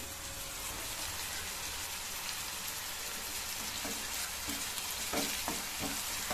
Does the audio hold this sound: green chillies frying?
yes